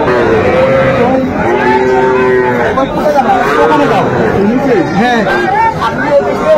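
Sahiwal bulls and calves bellow and moo loudly and close at a busy cattle market in Comilla, several long calls overlapping amid continuous crowd chatter and people talking.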